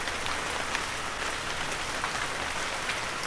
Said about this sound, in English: it was raining heavily at Smith's shed